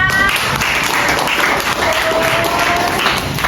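Applause from a classroom of students for a classmate, a dense steady wash of many hands clapping at close range that fills the room without talk.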